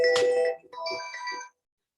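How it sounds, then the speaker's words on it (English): A phone ringtone comes through a computer speaker system during an online meeting, a bright melodic chime of stacked tones playing in two short phrases for about a second and a half before cutting off, with no talk over it. "Nice ringtone."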